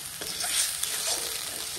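Hard-boiled eggs fry and stir in a spiced masala for a village-style prawn biryani, giving a steady close sizzle with scraping stirs over about two seconds, no voices.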